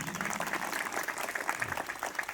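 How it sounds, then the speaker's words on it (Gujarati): An audience at an Independence Day celebration of an SRP police group in Nadiad claps for a quick Glock pistol assembly demonstration, a brief burst of steady, dense applause. "જોરદાર તાળીઓ થઈ જાય એમના માટે"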